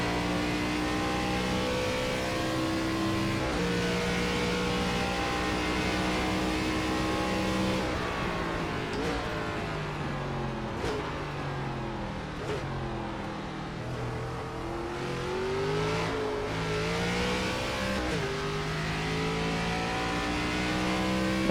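An ARCA race car in the iRacing video game drives on an oval, its engine droning loud and steady throughout and rising and falling in pitch through upshifts and corners.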